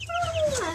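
A silver-laced Wyandotte chick, a tiny hen about three weeks old, gives a single close, clear call that slides downward, over faint background noise.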